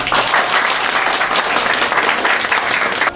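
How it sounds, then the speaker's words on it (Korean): Loud, dense applause from a crowd at the opening ceremony of a candidate's election campaign office, sustained steadily throughout without a break. "박수와 함께 시작하도록 하겠습니다"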